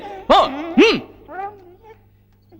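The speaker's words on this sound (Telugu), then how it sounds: "కుక్కలు వదలండ్రా" Dogs bark twice in quick succession, loud and close, followed by softer yelps and whines trailing off.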